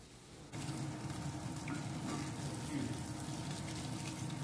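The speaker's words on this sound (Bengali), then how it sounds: "মাথাগুলোকেও দেখি সমস্ত সাইড খুব ভালো করে ভাজতে হবে" Fish heads frying in a pan on high heat for a Bengali macher matha dish with lentils, a steady loud sizzle that begins abruptly after a brief quiet and continues evenly throughout.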